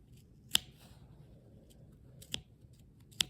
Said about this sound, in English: We're cutting through all of those layers there.